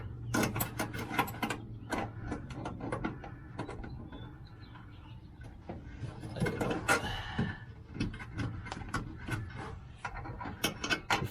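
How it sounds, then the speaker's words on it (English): A wrench or socket works screws on a sewer valve being fitted to a 1983 Mallard motorhome, giving rapid ratcheting clicks and metallic rattles in bursts over a steady low hum, close and fairly loud. "Get my wrench and we'll set these screws up"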